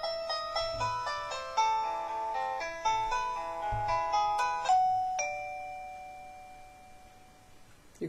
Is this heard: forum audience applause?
no